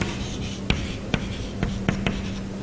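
Letters are written on a classroom board during a vocabulary lesson, a few sharp, separate taps of chalk or marker against the board over a low steady hum, close with no talk.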